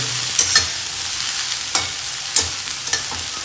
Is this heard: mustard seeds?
yes